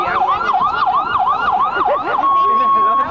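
An ambulance siren wails in fast rising and falling sweeps, then switches to a steady tone as the ambulance arrives at a Fiat 600 race track crash where a car rolled over. The siren is loud and close.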